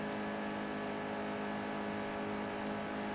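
Race car engine droning steadily at speed while driving a NASCAR stock car in the NASCAR Heat 2 video game, a loud continuous hum with slight pitch wavering, no talking over it.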